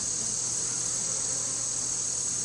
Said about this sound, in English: this is where the majority of the bees are